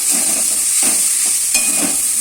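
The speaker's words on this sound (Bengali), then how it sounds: "এই পোস্তটা একটু ভেজে নেবো" Poppy seeds frying in a pan give a constant sizzling hiss, with a spatula scraping in rhythmic strokes every half second or so.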